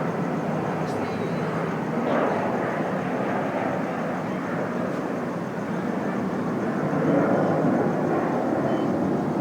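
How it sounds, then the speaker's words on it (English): An airplane passes overhead outdoors as evening falls, a steady broad rumbling drone that swells slightly toward the end, heard fairly close and continuous. "Oh, there goes a plane."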